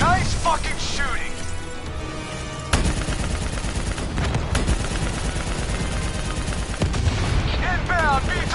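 Heavy gunfire and explosions in the video game Call of Duty: Black Ops 3 pound on continuously and loud, with sharp blasts breaking through and shouting voices over the din.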